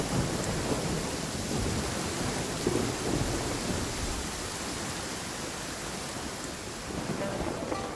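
Steady heavy rain with rolling thunder in the video game Genshin Impact, a dense continuous wash of downpour with low rumbles swelling beneath it, no voices.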